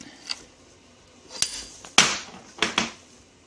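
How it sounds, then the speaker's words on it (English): Rubber fuel line tubing for a Mazda RX-7 is cut in a few sharp, close strikes, with quiet gaps between them and no talking. "Just wanted to share with you the sketchy way that I like to cut rubber tubing. Gives you a nice clean cut."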